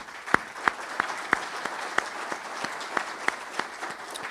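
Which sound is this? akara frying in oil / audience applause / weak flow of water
audience applause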